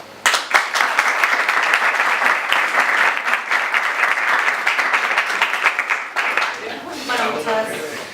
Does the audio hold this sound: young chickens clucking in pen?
no